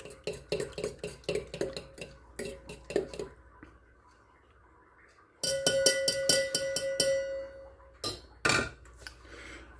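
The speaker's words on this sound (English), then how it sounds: "You don't have to completely beat them, but beat them enough." Eggs are beaten in a bowl with a utensil for a scrambled omelette: rapid rhythmic clacking against the bowl in bursts, pausing and resuming, close and fairly loud.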